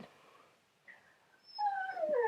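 A dog whimpers softly, then rises into a thin, wavering howl that grows louder toward the end, heard alone in a quiet indoor room.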